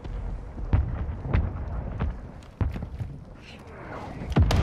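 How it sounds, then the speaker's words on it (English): Mortar strikes land in a shooter video game as a series of heavy, booming thuds spaced irregularly across the scene, loud and close, with some faint background game noise. "Hostile mortar strike incoming."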